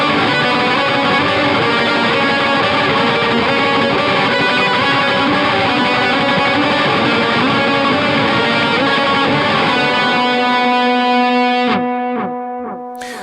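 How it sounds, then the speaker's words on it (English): Expansive, spacey post-rock electric guitar drenched in a Dark Times delay pedal, dense distorted wash of repeating echoes held loud and steady, then thinning to ringing sustained notes with trailing repeats as it fades. "so that you can create like a really expansive, spacey but filthy post-rock tone."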